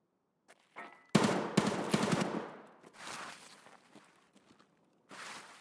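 Gunfire in the video game Escape from Tarkov: a sharp burst of rapid automatic shots, fairly close, followed by scattered distant shots and a later short volley, with no talking.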